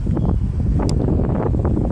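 Strong wind buffets the microphone outdoors at the water's edge during casting practice, a loud, rumbling gusty roar with irregular thumps and rustles throughout.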